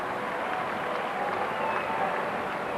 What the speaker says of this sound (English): The boos ringing round the stadium for Hull, but for Bradford, their supporters on their feet and cheering them off